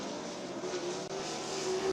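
A sprint car laps Eldora Speedway in a USAC race, its engine a loud sustained roar with a steady high drone, close and continuous with no talk.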